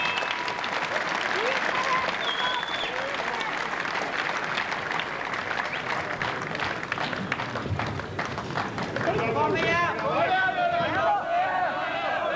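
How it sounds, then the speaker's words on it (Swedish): An audience applauds at length, a dense patter of clapping that swells and holds, with a voice speaking over the clapping toward the end. "Nu tycker jag vi applåderar och värmer på henne"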